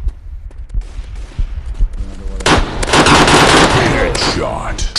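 Gunfire in the first-person shooter game Mask Gun: sparse thuds at first, then a loud dense burst of rapid automatic shots mixed with game announcer voice callouts.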